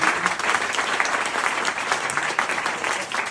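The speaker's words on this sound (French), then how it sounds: "j'aimerais quand même un tonnerre d'applaudissements pour le bar," Thick, sustained applause from a stand-up comedy audience in a bar in Lyon, close and continuous across the whole stretch with no break.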